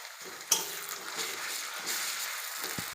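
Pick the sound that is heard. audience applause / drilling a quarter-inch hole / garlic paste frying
garlic paste frying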